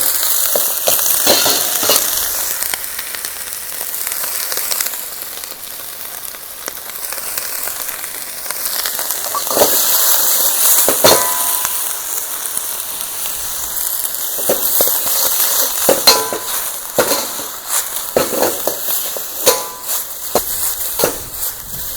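Garlic and broccoli sauté in hot oil with a steady, close sizzle and crackle that runs throughout, punctuated by sharper pops and scraping stirs.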